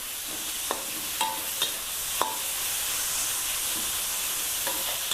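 Fatty minced pork hisses in a pan with golden garlic, a steady bright sizzle broken by several sharp spatula clicks and scrapes, close and unaccompanied by talk.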